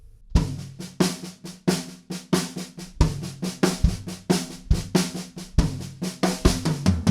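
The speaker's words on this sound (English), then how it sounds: "every now and again, we're going to move that right hand up onto the first tom just to get a fill that sounds like this" A drum kit plays a steady punk-style pattern in 16th notes, with the right hand moving onto the first tom for fills. The hits are sharp, rapid and evenly spaced, and nothing else is heard.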